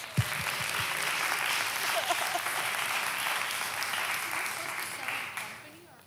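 Sustained audience applause fills a hall at a women's leadership and entrepreneurship convention, a dense steady clatter of many hands that tapers off near the end.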